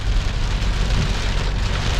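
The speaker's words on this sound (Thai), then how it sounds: "ด้วยสายฝน ที่ตกมาอย่างหนักหน่วงกันเลยทีเดียวนะครับ" Heavy storm rain in Wiang Pa Pao, Chiang Rai, Thailand, pours down in a dense, continuous roar of drops drumming on surfaces, with no wind, loud and close throughout, with no voices.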